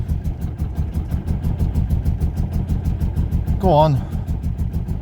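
Neglected barn-find Mercedes 190E engine held at full throttle but firing on only some cylinders, a loud, rough, pulsing chug with uneven beats close by, and a brief spoken voice partway through.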